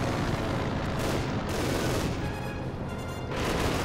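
Dense, loud gunfire from a machine gun in the video game Company of Heroes 2, mixed with booms and battle noise in a continuous barrage that slightly eases and then swells again.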